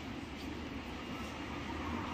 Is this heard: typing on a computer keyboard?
no